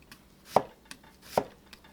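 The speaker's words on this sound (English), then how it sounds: "we're just going to slice these really thin" A knife slices through peeled plantains on a cutting board in thin cuts, producing two crisp, close chops with fainter taps between them.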